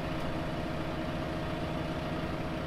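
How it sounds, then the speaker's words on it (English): Garden tractor engine in the Farming Simulator 15 video game, a steady droning idle with dense low rumble, constant and close, no talking. "The garden tractor."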